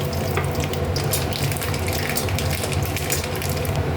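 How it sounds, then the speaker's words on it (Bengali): Dried red chilli and mustard seeds crackle in hot oil, a dense continuous sizzle with a low steady hum beneath it. "তেল গরম হয়ে গেছে, শুকনো লঙ্কা ফোড়ন দিলাম, তার সাথে সর্ষে ফোড়ন দিলাম।"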